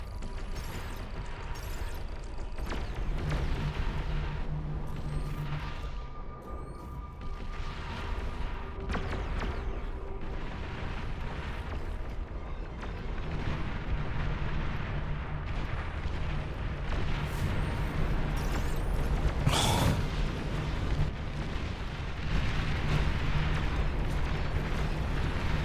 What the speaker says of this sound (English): the single volley from the super artillery is just breaking it